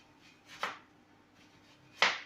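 Knife chopping onion very finely on a board for coleslaw, two sharp close cuts spaced about a second and a half apart, with softer scraping between them.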